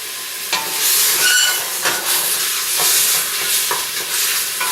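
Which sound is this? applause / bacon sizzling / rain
bacon sizzling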